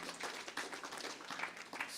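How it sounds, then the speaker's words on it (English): Applause from a Sunday satsang audience, a soft, steady patter of many hands clapping at a distance, evenly sustained throughout. "And she, give her a round of applause."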